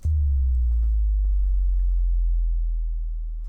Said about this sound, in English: it's just a simple sine wave that kind of drops sort of in the lows and the subs